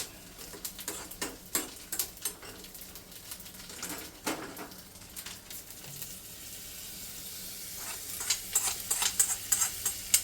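Grated coconut frying in ghee for payasam, a faint close crackle and sizzle broken by irregular spoon taps and stirring clicks, with no talking.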